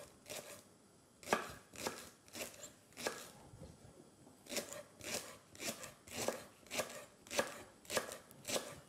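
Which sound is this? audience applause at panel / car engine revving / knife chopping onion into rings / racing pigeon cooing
knife chopping onion into rings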